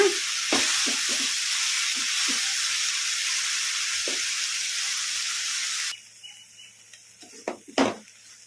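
Pundi (gongura) leaves frying over a medium flame, a broad steady sizzle and hiss with occasional stirring scrapes, which drops away to quieter clatter near the end.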